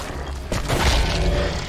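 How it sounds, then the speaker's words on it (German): In the video game Evil Dead, a shovel lands a hit with one heavy, resonant clonk that booms loudly and then rings and fades over the next second. "an dem Klonkgeräusch der Schaufel werde ich mich nie satt hören"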